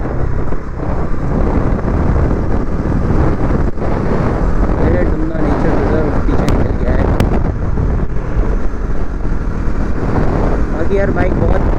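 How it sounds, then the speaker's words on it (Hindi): A Bajaj Pulsar NS400Z motorcycle cruises along an empty open road, its engine drone blending with heavy wind rush against the microphone throughout, loud and steady, with a rider's voice faintly underneath. "यार बाइक बहुत स्मूथ चल रही है।"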